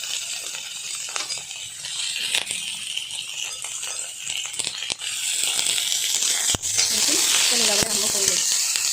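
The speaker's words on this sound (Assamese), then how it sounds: "সম্পূৰ্ণ গৰম হৈছে, তো এতিয়া ইয়াত মই মাংস দুটামান দি দিম" Pork fries in hot lard while being stirred, a continuous close sizzle with scattered scraping clicks that grows louder toward the end, a voice briefly heard underneath.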